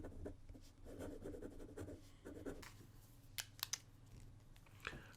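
A Pilot Prera fountain pen scratches across paper in soft, close strokes, with a few sharper clicks and taps near the end; no one speaks.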